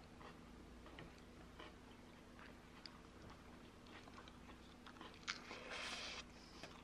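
Someone bites into and chews a tortilla wrap filled with smoked salmon and olives, soft crunching and mouth sounds close to the microphone, faint and intermittent, with a brief louder rustle near the end.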